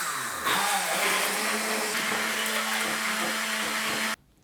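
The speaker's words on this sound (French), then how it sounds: "On vient ensuite mixer doucement le tout jusqu'à obtenir un coulis bien lisse." A kitchen blender purees mango flesh with lime juice into a smooth coulis, a steady loud motor whir running without a break for about four seconds before stopping abruptly, no voices.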